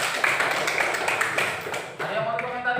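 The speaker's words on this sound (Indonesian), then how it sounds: "Tepuk tangan untuk kelompok 2" A classroom applauds a student group after a chemistry presentation: many hands clapping together in a dense, fairly loud burst, with voices mixed in.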